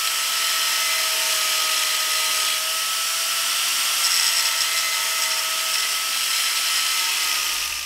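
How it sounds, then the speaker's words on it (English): Grinder cutting out a weld bead on a Dana 60 axle truss for an FJ Cruiser solid axle swap, a sustained high metallic whine and hiss held close and loud for several seconds, without speech. "there's a weld bead right there. So I gotta grind that out of there."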